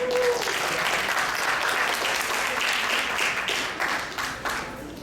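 Loud, sustained applause from a Kannada association audience honouring committee members and volunteers, dense clapping that thins slightly near the end, with faint voices underneath.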